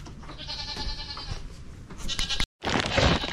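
Goats on a farm bleat repeatedly at close range, several overlapping calls over a steady rustling background, with a brief dropout of sound near the end before the bleating resumes.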